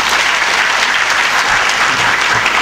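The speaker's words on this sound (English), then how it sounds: "give him a good round of applause." A hall audience at a suicide prevention event claps in a loud, dense burst of applause, steady and unbroken for a few seconds with no voices over it.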